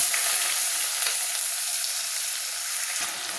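Chopped onions hit hot oil already holding dried red chilli, cumin and panch phoron for dal tadka, a loud, continuous close sizzle with a faint stir near the end and no talking.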